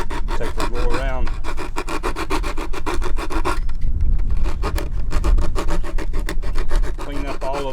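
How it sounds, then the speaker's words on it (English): Wooden gingerbread porch trim is hand-sanded along its edges with paper wrapped around a finger, producing loud, close, rhythmic back-and-forth rasping strokes with a short pause midway. "Clean up all of the little burrs, sand the edges, and then go around and kind of taper the sharp edges off."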